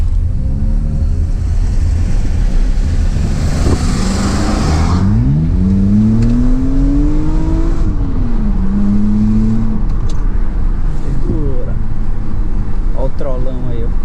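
A Honda Civic drives past on a road, its engine rising in pitch and rumbling loudly up close before fading as it moves away, with wind noise and a person's voice over it.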